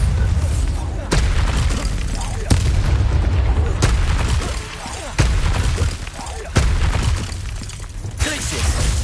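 Bombarda blasting spell explosions in Hogwarts Legacy, a series of heavy booming blasts roughly every one to two seconds, loud and close over continuous rumbling game noise.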